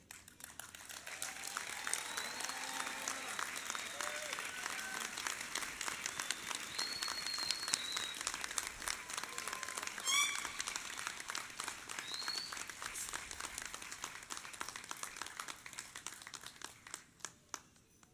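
Sustained audience applause at a high school commencement ceremony as family members step onstage to accept an honorary diploma; steady, dense clapping with occasional whoops runs for over fifteen seconds before tapering off at the end.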